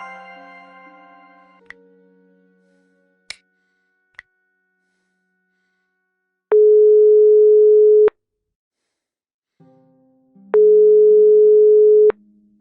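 Unanswered call tone in the Broken Sword: The Serpent's Curse video game: two long, loud, steady electronic beeps separated by a pause, following a few soft clicks and a fading musical note.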